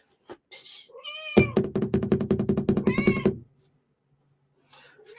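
A pet cat meows indoors, a few short close calls followed by a long, loud, strained wail with a pulsing buzzy texture, then quiet with faint background noise.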